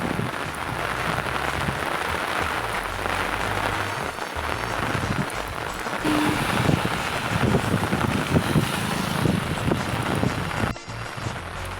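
Heavy rain pours steadily over a village, a dense continuous hiss with gusts of wind buffeting the microphone, holding strong throughout and thinning briefly near the end.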